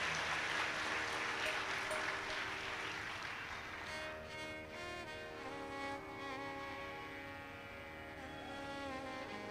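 Applause from an audience at a Hindi religious sermon, a dense wash of clapping that fills the opening seconds and then thins beneath sustained musical tones and a steady hum.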